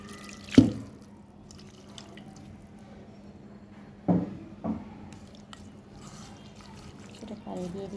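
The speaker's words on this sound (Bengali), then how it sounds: "কিছুটা পানি দিয়ে দিয়েছি, লাগলে পরে আবার একটুখানি দেব আমি" Water poured onto ground spice masala during home cooking makes a few soft, brief splashes and drips, spaced seconds apart in a quiet room.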